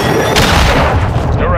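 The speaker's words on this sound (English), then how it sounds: "cruise missile away" A cruise missile strike explodes in Call of Duty, a loud booming blast with crackling debris rolling over a dense background of game battle noise, lasting a moment before fading.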